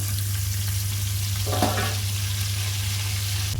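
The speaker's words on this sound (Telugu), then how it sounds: "మూత పెట్టి ఐదు నిమిషాల పాటు లో ఫ్లేమ్లో వేగనివ్వాలండి" Fish fries in a covered pan over a low flame, giving a continuous, even sizzle with a steady low hum beneath it and a brief crackling flare midway.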